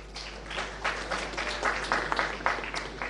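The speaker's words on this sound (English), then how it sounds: "We want to acknowledge his presence with a round of applause." Applause from an assembly audience welcoming the ECOWAS Commission President at a West Africa Power Pool general meeting, a steady, moderately loud wash of clapping with a constant low hum beneath.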